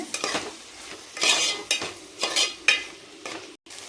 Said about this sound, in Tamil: மீல் மேக்கர் ஆட் பண்ணிட்டு நல்லா கிளறி விட்டுக்கலாங்க